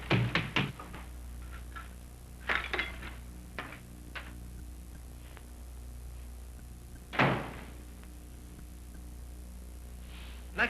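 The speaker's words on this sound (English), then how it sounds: "Next time you call, don't knock on the door so hard." Hard knocks on a door in a 1935 film scene: a quick cluster of raps at the start, another pair a couple of seconds later, scattered lighter taps, then a single firm knock, all over a low steady hum with no talk.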